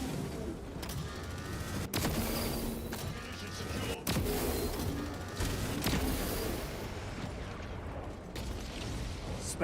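Lascannon fire in Space Marine 2: three or four sharp, heavy cracks about two seconds apart, each followed by rumbling noise and mechanical clatter, over dense battle din.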